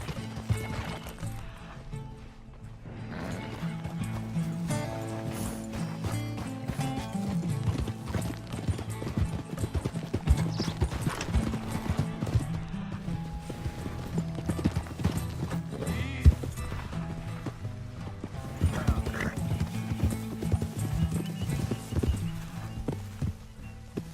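Horse hooves clip-clop steadily at a gallop in Red Dead Redemption 2, with occasional neighs and whinnies over a dense game soundscape, continuous and fairly loud throughout.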